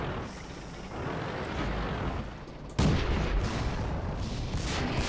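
Tank cannon fire in World of Tanks, a sustained roaring rumble of battle noise with a sharp, louder blast midway, then continued heavy rumbling.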